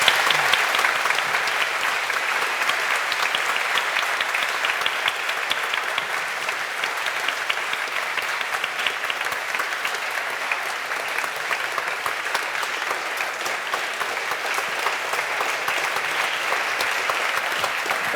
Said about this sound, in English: If you could all join me in giving him a very warm round of applause.